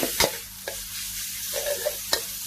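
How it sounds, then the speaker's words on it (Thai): Chilli, garlic and minced pork stir-fried in a pan, with a few sharp scrapes of the spatula over a low, steady sizzle. No one speaks. "ผัดพริกแล้วก็ ผัดกระเทียมหมูสับสามอย่างให้หอม ให้สุกอย่าให้หนูเป็นก้อนนะคะ"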